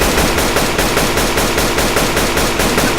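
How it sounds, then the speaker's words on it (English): Automatic AK rifle fire in the survival video game Rust, a loud, continuous rapid burst of evenly spaced shots filling the whole stretch without pause. "Shoot him with the AK."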